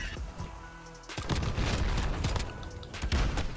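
M1911 pistol fire in the Modern Warfare video game, heard as a series of sharp, booming shots in close bursts mixed with other battle noise, loud and sustained after a quieter opening second.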